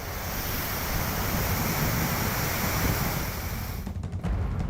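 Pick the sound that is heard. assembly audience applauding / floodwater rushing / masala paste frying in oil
floodwater rushing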